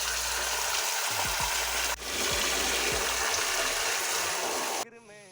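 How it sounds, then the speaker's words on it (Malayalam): Water from a pipe pouring into a fish tank, a steady loud rushing splash that runs almost throughout with a low mechanical rumble and rattles beneath, cutting off abruptly near the end. "അപ്പം വെള്ളം നിറയുന്നുണ്ട്."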